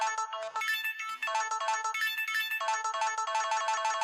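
The Can Can intro rendered with a phone's battery-low tone, a bright electronic melody of quick beeping notes in a bouncy rhythm, clear and uninterrupted.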